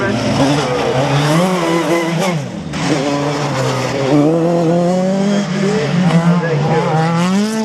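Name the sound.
single-seater race car on slalom track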